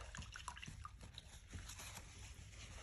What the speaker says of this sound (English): That little sound you hear is me cleaning the brush.